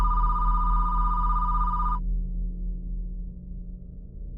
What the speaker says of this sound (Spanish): cuando suena el teléfono